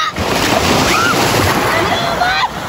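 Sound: ocean waves on a beach

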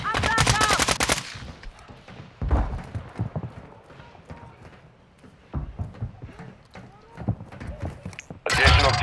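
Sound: gunfire from the video game Call of Duty

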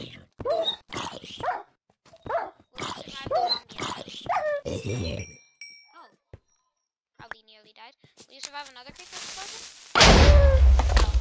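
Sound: dog whimpering in Minecraft video game

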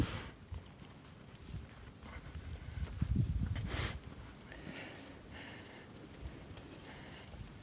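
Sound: horses walking nearby

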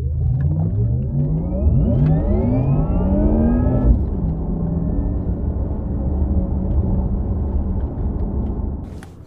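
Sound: Porsche Taycan Turbo electric motor sound piped through speakers

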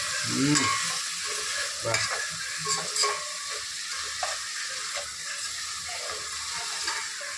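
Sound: mint leaves frying and stirred for chicken biryani

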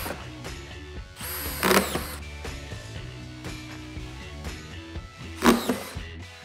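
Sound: DEWALT 20V Max XR brushless drywall screw gun running

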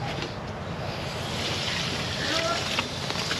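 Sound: water rinsing alligator gar belly meat

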